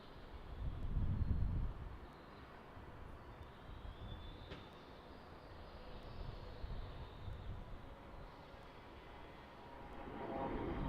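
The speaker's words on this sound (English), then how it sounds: "Looks like we got our tiny CRJ 200 departing." A CRJ 200 regional jet departs Salt Lake City International Airport, heard as a steady distant roar of broadband jet noise that swells at the start and again toward the end.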